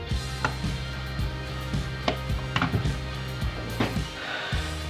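A toy airsoft S&W M29 revolver's mechanism clicks close up, a run of small sharp mechanical snaps at an irregular pace over a low steady background hum.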